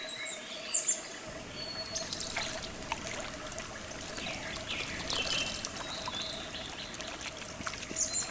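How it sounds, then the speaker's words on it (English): A mother owl bathes in water in the wild, making faint, soft trickling and splashing sounds over quiet ambience, with scattered distant bird chirps and no talking. "Through bathing, she relieves the stress from raising an owlet."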